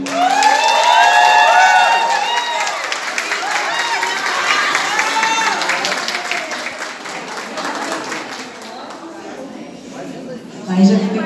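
An audience at the Miss Top Lady 2023 beauty pageant in Campo Limpo Paulista, SP, breaks into sustained applause and cheering with shouts, loud and continuous before gradually thinning out.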